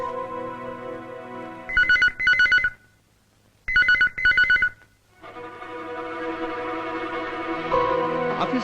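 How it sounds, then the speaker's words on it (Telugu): An office telephone rings in two loud double bursts separated by a short silence, with music playing softly before and after the rings. "ఆఫీస్ లో ఫోన్ రింగ్ అవుతుంది,"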